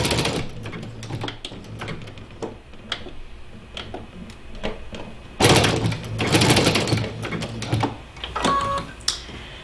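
A sewing machine zigzag-stitches along the edge of Aida cloth for a cross-stitch pillow, a fast mechanical ticking chatter that comes in bursts and grows louder and busier toward the end.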